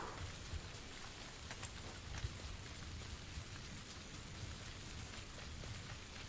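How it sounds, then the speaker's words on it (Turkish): Steady rain from the PUBG video game hisses evenly across the whole stretch, a dense, constant patter with no voices. "yağmur sesi çok kötü ya"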